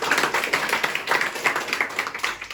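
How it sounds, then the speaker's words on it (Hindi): An indoor audience at a motivational session claps to reward a participant's answer. The clapping is loud and close, a busy stream of sharp individual claps that rises and falls slightly but never stops, with no talking. "इनके लिए जोर से तालियां बजाएं।"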